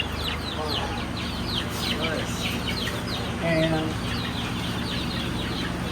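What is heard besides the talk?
chickens clucking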